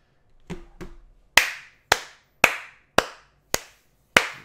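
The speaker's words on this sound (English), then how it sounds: "Round of applause." A few soft claps, then six sharp, evenly spaced hand claps ring out close by, each with a short decay.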